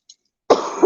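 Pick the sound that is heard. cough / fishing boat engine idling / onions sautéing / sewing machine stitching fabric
cough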